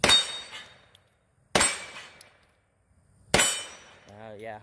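Bullets striking a steel target at a shooting range, three sharp ringing clangs spaced about a second and a half apart, each decaying quickly, with a brief voice at the end.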